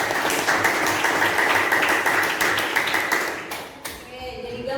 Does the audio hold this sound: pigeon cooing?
no